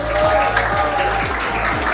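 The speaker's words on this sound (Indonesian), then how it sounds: "Tepuk tangan dulu dong, adik-adik" Students clap at a vocational school leadership event, the applause loud and steady with a low repeating thump beneath it.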